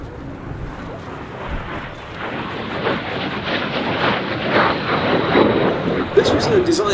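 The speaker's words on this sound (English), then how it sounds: "the MiG-15." A MiG-15 jet flies at the Duxford Battle of Britain Airshow in 2018, a steady broad roar that slowly swells, with faint voices heard under it.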